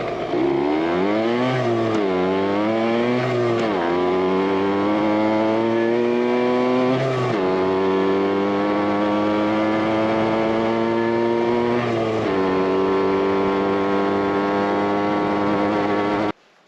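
A Yamaha RT100 dirt bike rides off-road through the hills near Pennask Lake, its small engine loud and close, revving up and down through several gear changes with rising and falling pitch.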